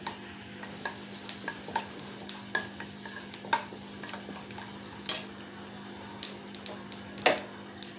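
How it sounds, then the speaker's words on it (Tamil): Flax seeds slowly dry-roasting in a pan, stirred with a utensil that gives frequent light scrapes and clicks over a faint, steady crackling hiss. "இந்த மாதிரி ஸ்லோவாக பார்த்து பொறுமையாக வறுக்கணும்"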